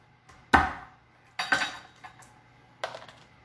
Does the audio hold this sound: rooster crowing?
no